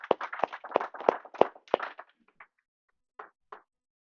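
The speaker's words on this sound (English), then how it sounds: "I think we should give Brother Black a round of applause for the wonderful meal this evening." A small dinner gathering applauds the evening's meal cook: a short run of sharp, close hand claps lasting about two seconds, then a few scattered, softer claps trailing off into quiet.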